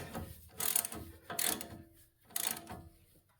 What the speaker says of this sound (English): Let me grab my 35mm. All right, we'll snug up the upper ball joint.